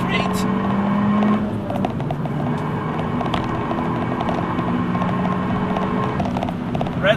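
An Abarth 695 Biposto's engine pulls hard down a straight, a steady, rising drone heard from inside the car toward a 6,500 rpm redline, with someone talking over it.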